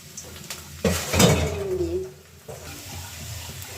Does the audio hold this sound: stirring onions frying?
yes